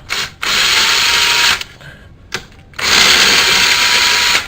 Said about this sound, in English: instead of putting it on my ratchet, which is here, I'm going to put it on my drill.